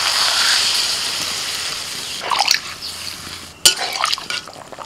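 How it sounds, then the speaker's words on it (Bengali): Water poured into a pan of potatoes and cauliflower that have been frying in spices for an Indian-style egg curry, giving a steady broadband hiss followed by a few sharp splashing bursts near the end. "এবার জল দিয়ে দিচ্ছি।"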